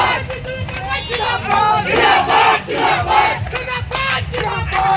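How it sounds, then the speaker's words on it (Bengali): Trinamool Congress supporters celebrate an election victory in Baharampur, a loud crowd of cheering and shouting voices rising and falling in bursts, close and dense throughout. "বহরমপুর শহর জুড়ে বিজয় উল্লাসে মেতেছেন তৃণমূল কংগ্রেস কর্মী সমর্থকেরা"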